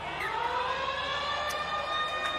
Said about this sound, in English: the siren sounds, signalling the end of the first half